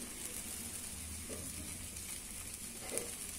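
Sweet dosa made from sathipindi fries in oil in a pan, giving a faint, steady close sizzle with a couple of soft scraping touches and no talk.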